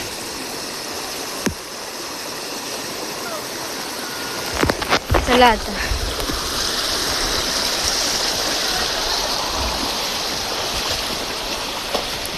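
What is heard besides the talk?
stream water flowing strongly after heavy rain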